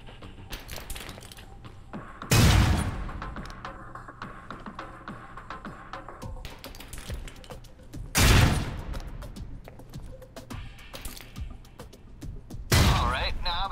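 Concussion grenades detonate in the video game Alpha Protocol: three loud, thudding blasts spaced several seconds apart, each a sharp burst that decays quickly over a steady low bed of in-game ambience and gunfire.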